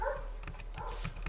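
Dogs bark outdoors at a rural survival camp, a run of sharp repeated barks at moderate distance over steady background noise.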